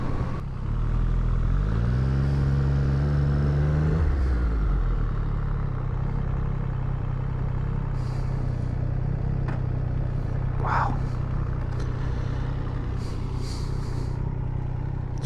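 A 2022 Triumph Street Triple RS on the road, its engine revving up through rising tones over the first seconds, then settling into a steady drone with wind noise as it rides on.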